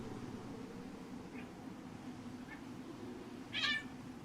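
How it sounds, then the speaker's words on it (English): Cats meowing as they fight in a fantasy strategy game, three short, faint cries spaced about a second apart, the last one louder, over a low, steady background hum. "Cats are fighting."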